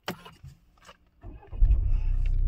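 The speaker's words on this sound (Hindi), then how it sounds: "देखिए गाड़ी चालू हो रहा है" A Tata Harrier BS6 phase 2 SUV engine cranks and catches, a few faint clicks and chimes giving way to a sudden rising engine start that settles into a steady, close idle.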